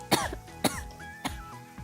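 Four harsh coughs ring out at a steady pace, close and fairly loud, with no talking around them.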